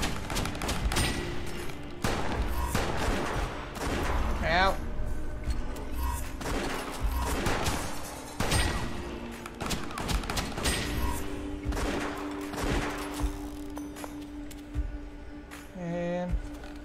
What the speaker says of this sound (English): this double barrel shotgun is useful.